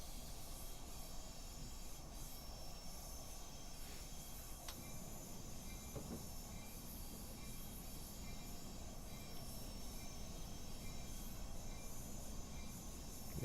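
Amtrak 587 rolls along in a train simulator game, giving a steady low rumble with constant hiss, faint and even throughout, with a few brief squeals and clicks.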